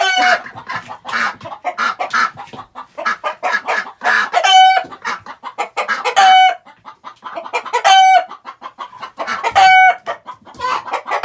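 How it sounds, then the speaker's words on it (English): Backyard chickens cluck in dense, close bursts, punctuated several times by a loud, drawn-out crow, the farmyard chatter running continuously throughout. "the chickens are a little bit afraid of Mama Duck."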